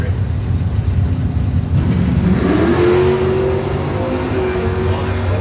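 A 1964 Chevrolet Impala drag car launches off the line at a drag race start, its engine roaring up in a rising rev that holds and fades with the car, over crowd and track noise.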